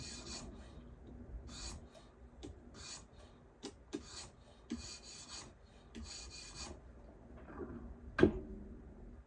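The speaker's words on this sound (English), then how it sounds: "if you know your angle and your blade's not damaged and you're just sharpening it up, it shouldn't take that long at all" A Spyderco kitchen knife drawn across a sharpening stone in a clamped setup makes steady, rhythmic rasping strokes, roughly one every half second, close and moderately quiet, with a sharp click near the end.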